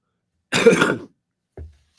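A single harsh cough bursts out, then a short, softer grunt follows after a brief pause; no talking.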